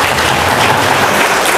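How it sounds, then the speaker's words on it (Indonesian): A church congregation claps and cheers for Jesus in a dense, steady wash of applause that fills the space evenly with no pauses. "Berikan sorak-sorai buat Tuhan Yesus."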